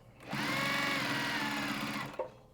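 A Juki sewing machine stitches a quarter-inch seam in one quick, steady run of about two seconds. The whirring hum is close and clear, with a small clunk as it stops.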